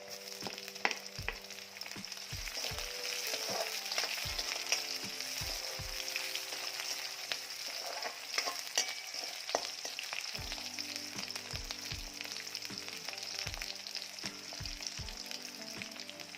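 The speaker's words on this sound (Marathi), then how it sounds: "मिरची देखील छान परतली गेली आहे" Green chillies fry with garlic in oil in a pan for a Marathi dill and capsicum vegetable dish, giving a steady close sizzle with occasional stirring knocks and no voices.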